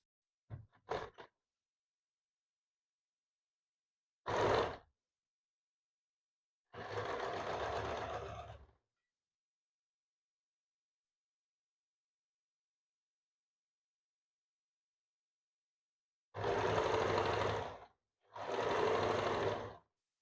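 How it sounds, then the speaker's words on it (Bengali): A sewing machine stitches a folded belt for a katori blouse in several separate bursts: a few very short ones early on, then longer steady runs, with silence between them. "এখানে ফোল্ড করে আপনি এই জায়গা থেকে সোজা করে সেলাই করতে থাকুন"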